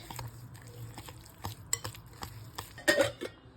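Semolina stirred with sour yogurt and a splash of water in a mixing bowl for suji chilla batter: soft scraping and stirring broken by a few sharp clinks of a spoon against the bowl, close and fairly quiet.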